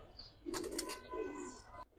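Giribaz pigeons in a large collection of flying and coloured breeds give faint, brief coos and low murmurs that rise and fall over a couple of seconds.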